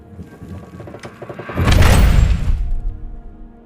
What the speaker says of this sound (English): the bathroom door slammed shut behind me with a loud bang